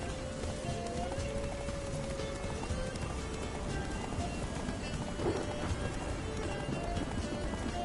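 A horse gallops beneath Geralt in The Witcher 3, its steady clip-clop rhythm running continuously under rain-like ambient noise with faint background tones.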